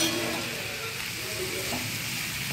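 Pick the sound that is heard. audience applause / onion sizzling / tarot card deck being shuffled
onion sizzling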